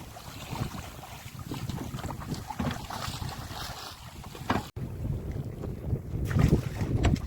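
A small fishing boat being turned around on choppy, windy water under overcast skies, with steady wind rumble and water wash throughout and no talk.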